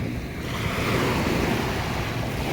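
Surf breaking on a dark-sand beach at La Fraternidad in Tubay, Agusan del Norte, a steady broadband wash of waves with some wind rumble, continuous and fairly loud with no voices.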